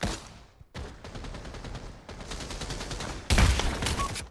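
Rapid bursts of gunfire crackle in the VR shooter game Pavlov VR, fairly quiet clusters of shots separated by brief pauses, with a louder, heavier volley near the end.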